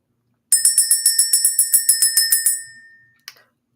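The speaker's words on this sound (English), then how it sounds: "Let's ring the bell." A small bright bell is rung rapidly about fifteen times in an even rhythm, close and clear, then fades out, followed by one faint single tap.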